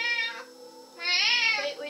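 A cat meows in the Minecraft video game, two drawn-out, close, clear cries with a short gap between them, no talk over them.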